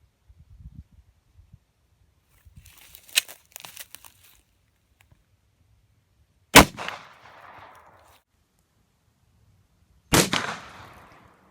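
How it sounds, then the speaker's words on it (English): Sharp, loud single shots of 115 grain rounds fired at a brick wall sound at widely spaced intervals, each crack followed by a brief scatter of debris, with smaller rustles and clicks in between. "so we just shot our 115 grain and the brick defeated it"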